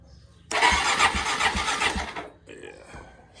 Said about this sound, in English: Let's see if she cranks.